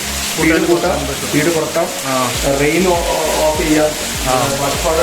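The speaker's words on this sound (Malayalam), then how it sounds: "ഈ വെള്ളച്ചാട്ടത്തിന്റെ പോസ്റ്റ് നമുക്ക് റെഗുലേറ്റ് ചെയ്യാം" An artificial waterfall at a private pool resort villa in Kannur gives a steady splashing rush of falling water, heard underneath a person talking throughout.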